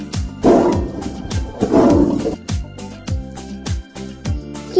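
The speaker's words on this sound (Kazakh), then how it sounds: "Жолбарыс, оның төлі" A tiger roars in two strong, gravelly bursts, followed by a run of shorter rhythmic grunts, heard up close with no one speaking.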